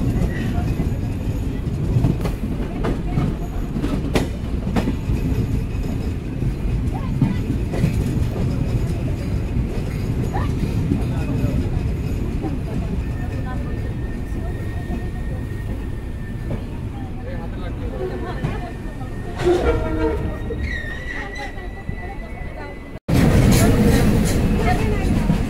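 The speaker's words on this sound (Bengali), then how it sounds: "আমাদের ট্রেন প্রবেশ করছে ঈশ্বরদী জংশন রেলওয়ে স্টেশনে" The Kapotaksha Express on the Rajshahi to Khulna run rolls into Ishwardi Junction station with a continuous heavy rumble and rattle of carriages and scattered metallic clicks, growing abruptly louder near the end.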